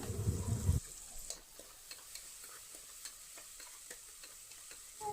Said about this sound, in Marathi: आता त्यामध्ये बारीक कापलेलं गाजर आणि टोमॅटो टाकून घेऊया आणि छान परतवून घेऊया.